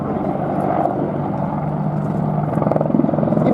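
A Westland Apache attack helicopter of about ten tons flies a display at the Duxford air show, its steady rotor and turbine drone loud and close throughout, with the blade beat growing slightly stronger toward the end.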